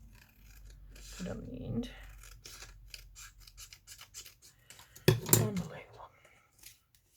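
Scissors snip through paper for a handmade journal in a short burst of crisp cuts, with quiet talk and soft rustling around them.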